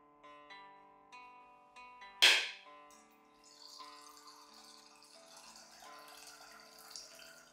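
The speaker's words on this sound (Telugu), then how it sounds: "ఇప్పుడు ఈ కొబ్బరికాయని కొట్టి దీంట్లో వాటర్ని పక్కకు తీసి పెట్టుకుందాం." A single sharp crack as a coconut is struck, then a soft trickle and splash of its water draining into a container, close and quiet after the loud hit.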